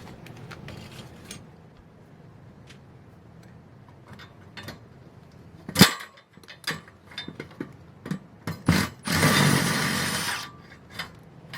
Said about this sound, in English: next we've got 4 screws under here that we need to get out